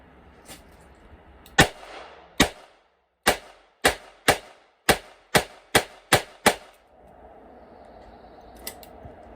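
A Smith and Wesson 617 revolver fires Winchester white box rounds: about eleven sharp, loud cracks in an uneven series, each with a short echo tail, then quiet.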